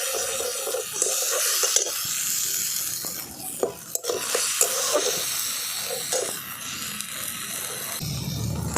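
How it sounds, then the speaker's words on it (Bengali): Turmeric and spices being fried down in oil for a light cauliflower curry, a steady close sizzle broken by scraping stirs and the clatter of a spoon against the pan. "দেখুন মশলাটাকে আমি খুব ভালো করে তেলের সাথে একটু কষে নিচ্ছি।"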